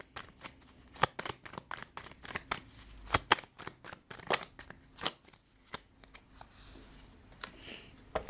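Tarot cards shuffled by hand in a quiet room, a steady run of soft riffling flutters and sharp card slaps, close and alone without talk.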